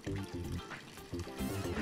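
Water poured into red cabbage juice for a home science experiment, a steady close liquid pour with gurgling, bubbly fill sounds running throughout, fairly loud and alone.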